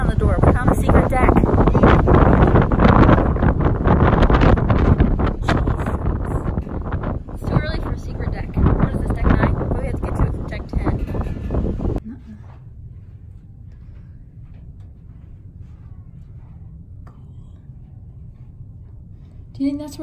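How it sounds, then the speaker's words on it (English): Loud, blustery wind buffets the microphone on the deck of the cruise ship Carnival Magic in the Western Caribbean for about twelve seconds, then drops to a low steady rumble as the gusts ease. "It's very windy."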